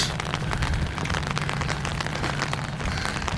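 Steady rain patters on an umbrella during an outdoor walk, a dense, even hiss that stays constant and fairly loud throughout with no voices.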